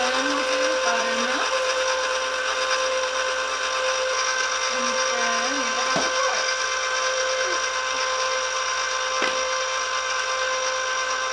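An electric mixer whirs steadily through chocolate cake batter with cocoa powder, a constant close mechanical drone with a few brief knocks against the bowl, and no one talks.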